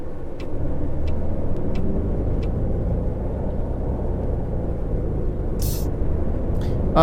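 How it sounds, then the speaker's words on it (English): A car rolls past on a road in a steady broadband rumble of engine and tyre noise that holds for several seconds, with a few faint clicks and a brief hiss near the end. "That car gonna let me go?"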